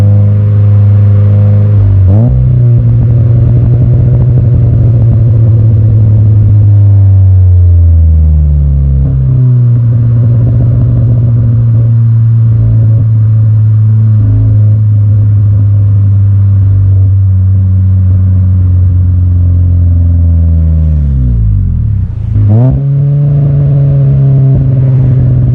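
A car exhaust revving loud and close with no engine tune, idling low then climbing and falling through several long rev sweeps, with crackling pops on the throttle lift-off and a final blip near the end.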